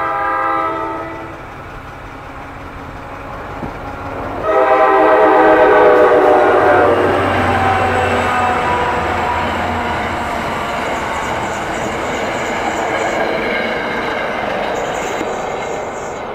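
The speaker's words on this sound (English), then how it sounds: "Another express train, isn't it?" An express train passes close by at Ramsey, its loud multi-tone horn sounding in stretches over a heavy rolling roar that swells midway and carries on steadily to the end.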